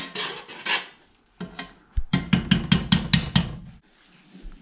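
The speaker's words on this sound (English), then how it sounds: "Put it in the pan, the buttered pan. So we're going to put it in there, scrape it out." Hot peanut brittle being scraped from a cooking pot into a buttered pan: a run of rapid, rasping metal scrapes close by, several short strokes in quick succession after a few slower drags, with no talking.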